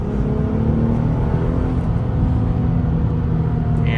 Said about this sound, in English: Let's downshift so you can see